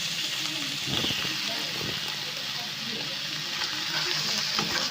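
Fenugreek greens (methi shak) fry in a pan with a steady sizzle, broken by several soft scrapes and stirs of a spatula, and no speech is heard.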